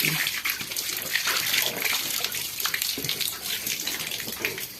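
Water running steadily from a garden tap outdoors, a continuous hissing splash that stays fairly loud and unbroken throughout, with no talk over it.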